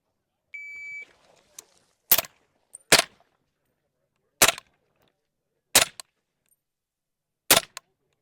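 Suppressed gunshots from a Scar 17 rifle, four sharp cracks spaced about a second or so apart, preceded by a short electronic beep and a few faint clicks, with quiet between shots.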